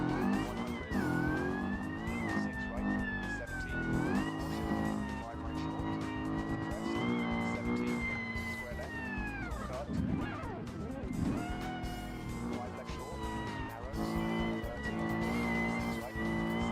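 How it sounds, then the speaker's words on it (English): A supercharged Group B rally car in a racing video game revs hard with a loud, whining supercharger, engine pitch rising and falling through shifts, with tire squeal and skidding over rough terrain throughout. "the supercharger is loud"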